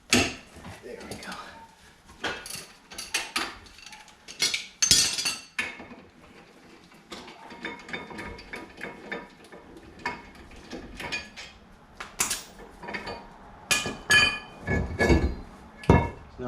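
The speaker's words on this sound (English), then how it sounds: "Now we got the rotor off." A brake rotor assembly being removed from a Mazda 3, with scattered close metallic clinks, knocks and clanks of parts and tools at irregular intervals, some loud sharp hits among quieter rattles.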